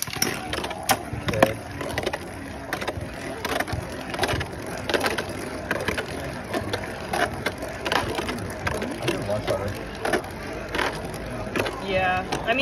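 Beyblade spinning tops launched into a stadium and battling in a competitive match, a dense continuous grinding rattle of clashing tops with sharp metallic clicks throughout, close up, with brief talk over it.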